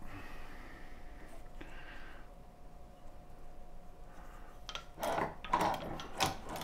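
A Chinese leather shoe patching machine stitches through two layers of leather, a few brief, quiet mechanical bursts near the end after a stretch of near silence.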